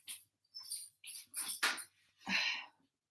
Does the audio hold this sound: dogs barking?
yes